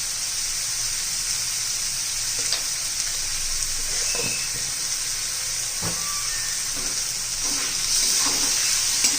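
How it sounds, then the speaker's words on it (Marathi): Tomatoes sauté in a pan with salt for a pea and spinach dish, giving a steady, even sizzle throughout, with a few soft stirring taps and scrapes breaking through now and then. "टोमॅटो चांगला मऊ होईपर्यंत आपण परतून घेऊया"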